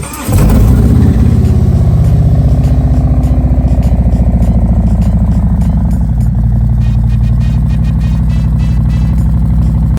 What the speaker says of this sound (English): Because right now we have dual exhaust on here.